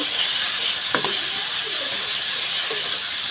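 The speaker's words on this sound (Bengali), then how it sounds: "একটু মরিচের গুঁড়া একটু ধনের গুঁড়া একটু হলুদের গুঁড়া দিয়ে আমি মশলাটা এভাবে ভালো করে কষিয়ে নেব" Onion and a paste of chili, coriander and turmeric powders fry in a pan with a loud, steady sizzle, and a couple of soft stirring scrapes rise above the hiss.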